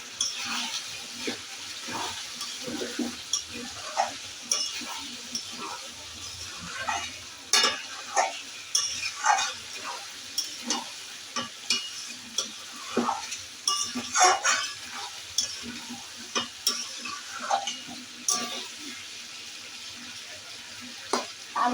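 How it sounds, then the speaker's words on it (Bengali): Rohu fish pieces cooking in a spiced tamarind curry with potatoes, stirred in a pan: a steady low sizzle runs underneath repeated scraping strokes of a spoon against the pan, fairly close, with no talking. "একটু নেড়ে নিই।"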